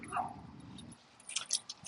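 A Labrador and pit bull mix dog sniffs around close by, giving a few short, soft snuffling bursts after a low rumble fades. Faint clinks are heard alongside the sniffing.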